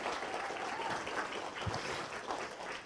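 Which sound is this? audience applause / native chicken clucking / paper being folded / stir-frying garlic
audience applause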